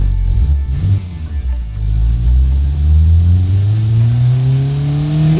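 Simulated Honda D16Z6 engine replica in the game Automation, idling around 1000 RPM with a low rumbling drone, then revving up in a smooth rising climb, loud and close with no voices.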